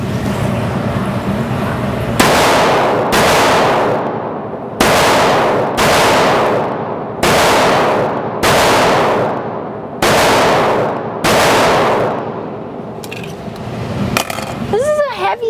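Loud, close pistol shots from a Springfield Loaded Operator 1911 with a 5-inch barrel, fired one at a time in a steady rhythm of about eight sharp reports, each with a short echoing tail, ending with faint ringing clinks.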